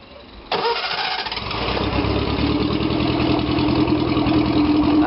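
A Datsun 1000 (VB10) A10 engine, mounted in a box trailer, cranks briefly and then fires into a loud, steady idle that carries on close by, unaccompanied.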